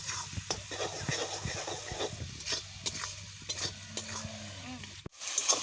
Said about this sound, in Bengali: ভালো করে কষিয়ে নেবো এবার